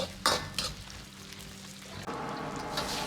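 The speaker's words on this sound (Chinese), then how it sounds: "接着放入少许的干辣椒和花椒，去腥增香，煸炒出香味。" Dried chilies and Sichuan peppercorns stir-fried with browned pork slices in a wok, a steady close sizzle broken by sharp clacks of a spatula scraping and tossing, with a louder burst of frying near the end.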